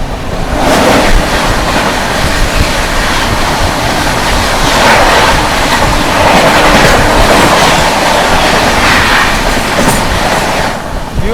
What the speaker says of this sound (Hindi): सामने से आ रही है न्यू तिनसुकिया अमृतसर एक्सप्रेस